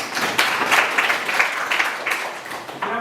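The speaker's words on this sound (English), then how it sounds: "Yes, clap for him." Students in a classroom clap together for a classmate who answered a question, a steady, fairly loud burst of many hands filling the whole moment.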